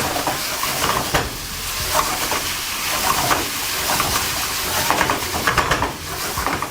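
Chicken jalfrezi with garam masala and coriander powder tossed in a hot pan, a loud, steady sizzle and hiss with stirring scrapes running throughout.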